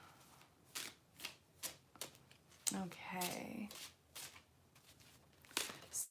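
Angel oracle cards are shuffled by hand in a quiet room, giving a run of about a dozen short, crisp papery bursts in an uneven rhythm, close and fairly soft. A voice briefly speaks once.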